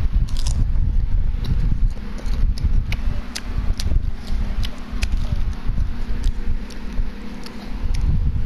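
Chips are bitten and chewed up close in a run of sharp, irregular crunches over a low background rumble.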